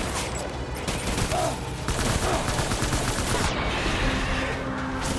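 Heavy gunfire in a video game battle, continuous overlapping automatic fire and shots forming a loud, dense fusillade with no pauses, and no voices.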